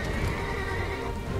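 A horse neighs and whinnies in the Final Fantasy XVI video game, loud and close, with hooves clip-clopping underneath and a steady noisy backdrop throughout.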